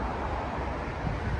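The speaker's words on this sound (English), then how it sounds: "It's a bit windy." Wind at an abandoned grassland site that was once part of St Leonard's Priory, heard as a steady low rumble of gusts buffeting the microphone over a brief, unbroken stretch.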